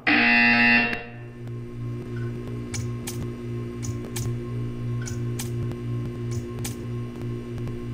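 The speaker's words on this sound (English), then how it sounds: "When you hear the buzzer, stare at the arc." Buzzer in the Portal 2 video game: a loud electronic burst lasting about a second, then a steady low mechanical hum with faint, regularly spaced ticking clicks.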